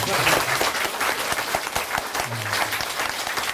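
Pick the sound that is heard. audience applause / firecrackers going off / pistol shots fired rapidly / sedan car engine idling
audience applause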